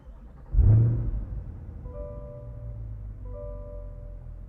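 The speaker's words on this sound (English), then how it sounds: "And bring that V8 engine to life." A 2021 Chevrolet Corvette Convertible Z51's V8 engine cranks and fires with a deep burst of a rev, then settles into a low, steady rumbling idle, close and prominent.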